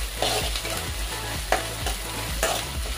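Green chili and curry leaves fry in a pan with a steady sizzle while a spoon stirs them in repeated scraping strokes, close and fairly quiet.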